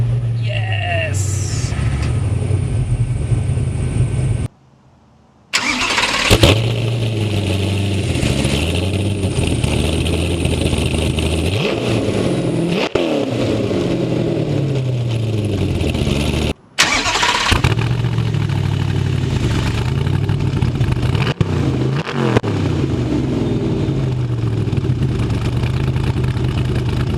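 A Superlite SLC's engine cranks and fires after brief silent gaps, then settles into a loud, throbbing idle with revs rising and falling, while a person talks throughout.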